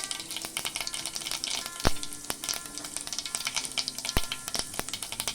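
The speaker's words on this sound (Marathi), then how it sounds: "आता तेल तापलेलं आहे। राई घालून घेऊया।" Mustard seeds and cumin sizzling and crackling in hot oil in a pan, with a steady frying hiss and sharp, irregular pops, close and loud, with no talking.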